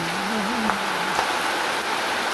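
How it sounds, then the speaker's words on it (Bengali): Steady, dense hiss of rain falling on a rural Bangladesh autumn morning, continuous and close, with a faint tonal hum drifting low beneath it for the first second. "কাল রাতেও বৃষ্টি হয়েছে, আজও হয়েছে, মনে হয় সারাদিন হবে"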